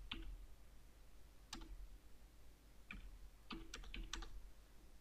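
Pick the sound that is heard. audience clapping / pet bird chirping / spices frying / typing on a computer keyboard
typing on a computer keyboard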